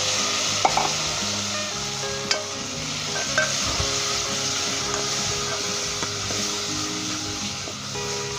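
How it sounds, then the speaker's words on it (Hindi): Tender mutton frying with ginger, garlic, onion and spices in a hot pan, giving a loud, continuous close sizzle broken by occasional scraping clicks of stirring. "और 2 से 3 मिनट हम इसे अच्छे तरीके से भूनेंगे इसके अंदर"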